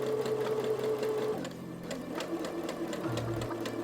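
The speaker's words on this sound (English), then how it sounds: "Then as I sew, I curl the fabric as I go to guide it into that roll." Sewing machine stitching a rolled hem on a bubble frock, a fast steady mechanical whir with even needle ticking that shifts pitch partway as the speed changes, close and alone.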